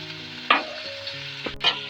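Chicken katakat with tomatoes and spices frying in a pan, a steady low sizzle broken by a couple of sharper stirring bursts and clatters, fairly close with no voices.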